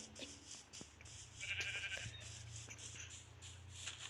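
A sheep in the Minecraft video game bleats faintly amid quiet background noise, one short wavering call standing out near the middle.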